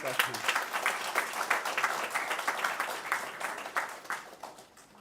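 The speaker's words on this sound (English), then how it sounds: "Please give him big applause." Scattered, fairly faint clapping from the audience at the valedictory session of the 108th Indian Economic Association Conference at Osmania University, with distinct individual claps that thin out toward the end.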